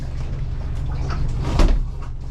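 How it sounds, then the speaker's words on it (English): A single muffled thump and rattle of a small front compartment door being pulled open on a 2017 Hewescraft 180 Sportsman boat, over a steady low engine hum. "You just open up this door up front"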